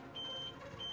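An APC Smart-UPS sounds its critical battery discharge alarm, two thin high-pitched electronic beeps in quick succession, faint over a low background hum.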